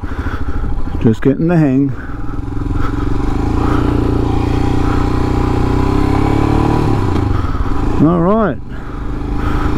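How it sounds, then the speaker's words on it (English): A Royal Enfield Himalayan motorcycle engine runs steadily and close, with two brief revving bursts near the start and end, while someone talks over the idle. "one Royal Enfield Himalayan"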